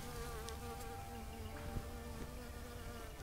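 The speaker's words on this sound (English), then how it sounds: "So the bees are happy with the pigeon pea that's flowering at the moment." Faint, steady buzzing of bees around flowering pigeon pea hums continuously in the distance, with a soft outdoor background and no voices.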